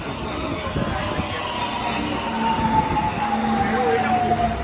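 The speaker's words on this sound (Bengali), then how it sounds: "দেখি এই যে এখানকার মেট্রো দেখে নি" A Budapest metro train runs loud and close, rumbling on the rails with a steady high whine and a drawn-out wheel squeal that rises toward the end.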